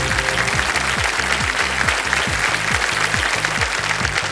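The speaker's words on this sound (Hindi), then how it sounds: "ताली बजाएं।" Studio audience applause on a Hindi television quiz show, a steady dense wash of clapping running throughout at even loudness, with a rhythmic musical sting pulsing underneath.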